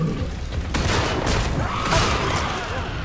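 A grenade going off in the video game Killing Floor 2: a loud, sustained burst of booming blast and rumbling debris fills the whole moment, with gunfire-like crackle mixed in.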